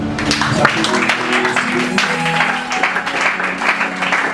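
A church congregation at a healing-ministry service claps and cheers in acclaim of the Lord, steady dense applause and voices filling the room with sustained tonal music underneath.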